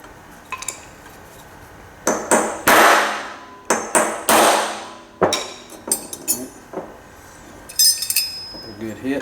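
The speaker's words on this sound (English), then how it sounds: "I'm going to smack it pretty good with a little ball peen hammer here." Sharp metallic ball peen hammer strikes on a punch during a Colt 1911 pistol restoration ring out in a few separate bursts, some single and some doubled, loud and close, with quieter clinks between them.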